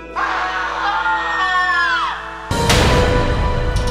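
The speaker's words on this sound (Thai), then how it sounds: "พลันเกิดเสียงร้องโหยหวนขึ้นทั่วหมู่บ้าน" Drawn-out, rising and falling wailing cries sound loud and eerie, then break into a sudden burst of harsh noise and commotion.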